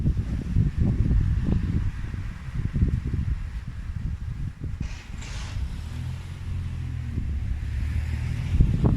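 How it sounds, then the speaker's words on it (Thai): Strong wind blowing through a chestnut forest near home, a steady low rumbling buffet of gusts with wind noise on the microphone and faint rustling throughout. "ลมแรงนิดนึงเพื่อนๆ"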